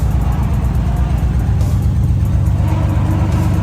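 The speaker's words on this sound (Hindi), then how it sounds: "ऐसा मिसिंग मार रहा ना, क्या बताऊं।" A Nissan 350Z drift car with a misfiring engine idles up close, a loud, steady rough rumble holding throughout with no talk over it.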